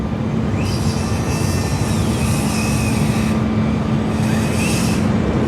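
An airplane at Sydney Airport produces a steady, loud jet roar with a constant low hum and whining tones rising and falling across several seconds.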